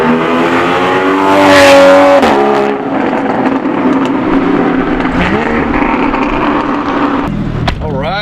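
A car roars past at a car show featuring a Ford GT, its engine note swelling loud and steady with a pitch shift as it goes by, surrounded by crowd and outdoor noise.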